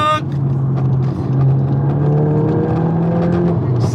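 A tuned VW Golf MK8 GTI Stage 2 with a non-resonated sports-cat exhaust accelerates hard on a drag run, its engine note rising steadily, loud and close, with no talk over it.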